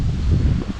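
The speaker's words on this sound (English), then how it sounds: "The wind definitely starting to pick up." Wind gusts buffet the microphone during bass fishing at Piney Run, a brief, loud, low rumbling roar with no voices.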